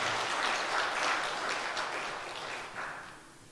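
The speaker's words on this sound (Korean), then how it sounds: "박수 치려면 좀 쳐주시고" A church congregation applauding during a worship service: a dense, even wash of clapping that fades gradually over a few seconds.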